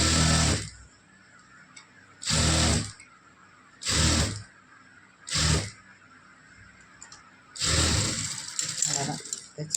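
Sewing machine stitching a lined blouse, running in five separate loud bursts of steady mechanical whirring with quiet pauses between, the last burst longer and rougher; talk is heard in the gaps.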